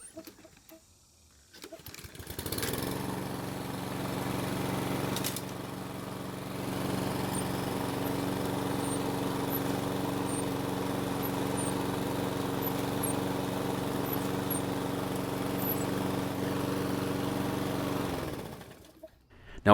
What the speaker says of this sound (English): Let's start it up and show you what it's doing